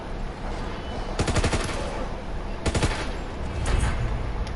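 An MG15 machine gun in a World War 2 zombies game fires several short rapid bursts, close and loud, over a constant background hum.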